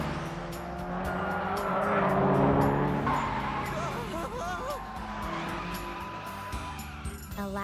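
A turbo-tuned car in an Initial D anime mountain road race roars with a loud, steady engine note, then tires squeal and skid in wavering, rising-and-falling streaks, mixed with soundtrack music and voices speaking over the action.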